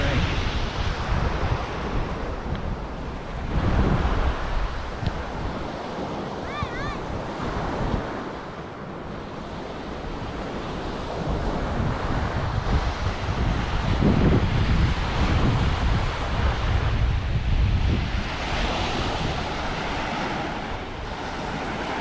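Ocean waves break and wash against the shore at EOD Beach in Sattahip, Chonburi, Thailand, a steady loud surf roar mixed with gusty wind buffeting the microphone throughout.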